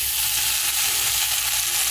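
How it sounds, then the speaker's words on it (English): Chorizo frying in a pan sizzles loudly and continuously, a dense crackling hiss close to the microphone with no pauses or speech. "It's gonna sizzle?"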